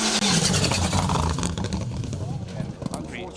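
A rally car drives hard through an asphalt stage at Rally Ceredigion, its engine roaring close then easing away as it passes, while commentary voices talk over it.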